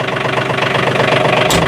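A tractor engine idles loud and close with a steady, pulsing mechanical chug and a brief sharp click near the end.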